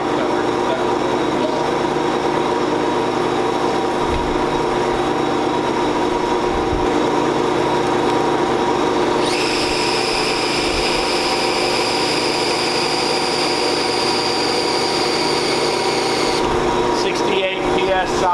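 A drill spins the oil pump shaft to prime a small-block Chevy engine, giving a steady, continuous whirring drone with a higher whine joining partway through, close and constant.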